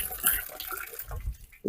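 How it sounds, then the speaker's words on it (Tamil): Water pours and splashes as a container is filled in a vegetable garden, with an irregular gurgling rush, a dull thump near the end, and a voice talking at times. "நிரப்பியாச்சு தண்ணி."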